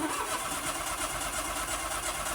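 A 2000 Smart Fortwo 450 engine turns over repeatedly with a rough, churning starter sound that keeps cranking without catching, steady and moderately loud, during diagnosis of a starting fault involving the clutch actuator.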